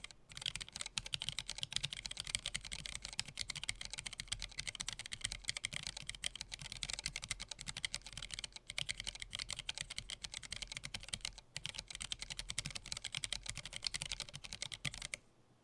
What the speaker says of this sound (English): We're going to go do a typing test on it